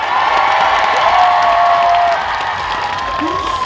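A crowd at a festival closing concert in Bonghwa, South Korea, claps and cheers loudly and continuously, with shouts and whoops rising over the dense applause, which eases slightly toward the end.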